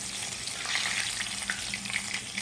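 Fish steaks frying in hot oil, a dense, loud, even sizzle with bubbling crackle throughout, close by and with no voices.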